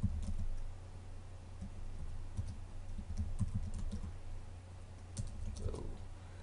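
Light typing on a computer keyboard, with quiet, irregular key clicks coming in short bursts over a low steady background hum.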